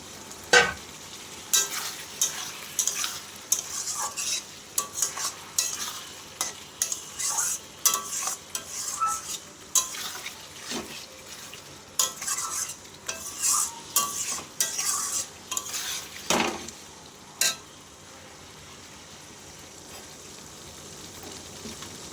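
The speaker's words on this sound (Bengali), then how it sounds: "দুধটা দিয়ে নেড়ে চেড়ে আমি মাছটা দিয়ে দেবো" Prawns stirred through milk in a pan, a utensil scraping and clinking in repeated irregular strokes over a soft steady simmer, close and fairly loud, with a long quiet stretch of gentle bubbling near the end.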